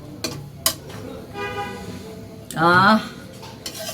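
A spoon stirring ghee with cardamom and cinnamon in a pan for carrot halwa: a few sharp metallic clinks and scrapes at close range, with someone talking between them.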